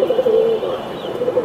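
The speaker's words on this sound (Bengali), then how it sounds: "এই যে আরেকটা কবুতর" Giribaz pigeons kept by a fancier give a low, steady, close cooing, murmuring continuously throughout.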